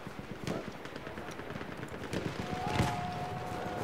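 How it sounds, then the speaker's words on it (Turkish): Rapid bursts of Martini rifle gunfire in Battlefield 1 crackle in quick repeated volleys, moderately loud and close, with a brief whistling tone near the end. "Önüne doğru sıkıyorum ama aynı martini'yi kullanmak biraz zor."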